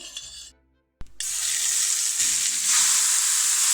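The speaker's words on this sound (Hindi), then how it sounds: "अब उसमें मैं श्रेडेड दूधी डालूंगी।" Shredded bottle gourd hits hot ghee after a brief quiet pause, setting off a loud, steady frying sizzle that continues alone for several seconds.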